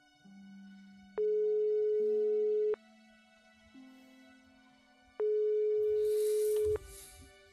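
Repeating telephone busy signal from the video game Broken Sword 5: The Serpent's Curse, two long steady tones with pauses between them, playing alone over a low musical backdrop.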